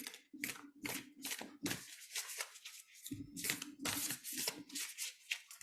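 A deck of tarot cards being shuffled by hand, giving repeated crisp riffling and sliding bursts in quick irregular succession, close and fairly quiet, with a short pause midway before the shuffling resumes.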